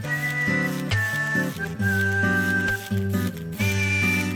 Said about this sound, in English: Oh my god, when does the whistle end?